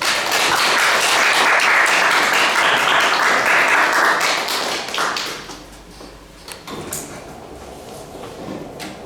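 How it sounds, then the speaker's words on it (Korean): Audience applause greeting a lecturer after his introduction at a talk about the inter-Korean border, dense clapping filling the room loudly for about five seconds before fading into scattered claps and quiet. "오늘 강주원 선생님의 좋은 강의 큰 박수로 청해 듣겠습니다"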